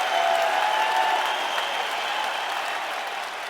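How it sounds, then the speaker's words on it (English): A school assembly audience claps in a sustained round of applause, full and even at first and tapering slightly toward the end, with a faint tone ringing beneath. "Can we give Tatiana just another round of applause for sharing her story?"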